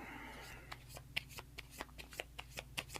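Playing cards shuffled by hand during a Great Western Trail board game, a quiet run of rapid riffling snaps and soft flicks, close but faint, with talk at the table just before.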